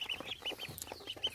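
Local ducklings under brooding in cold weather peep steadily and close by, with short, high calls overlapping one after another throughout.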